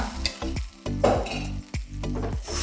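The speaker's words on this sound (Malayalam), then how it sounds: "നമ്മൾ ഒരു തവി മാവ് ഒഴിച്ചു കൊടുക്കുക" Wheat-flour appam batter ladled onto a hot pan, giving a soft sizzle broken by several scraping, clattering touches of the ladle and pan, close and alone without voices.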